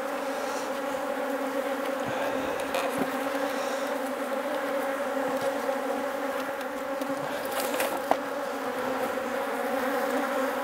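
A dense, steady buzz of many honey bees hums continuously up close at a hive fitted with a pollen trap, with a few faint clicks and knocks underneath.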